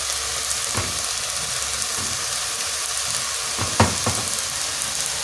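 Minced meat frying in a pan, a close, constant sizzle with a few sharp scrapes and knocks from a stirring spoon.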